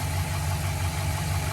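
A V8 in a 2007–2013 GM Sierra/Silverado with a MAF sensor fault idles close by, a loud, steady low rumble with a slightly uneven pulse and no talking.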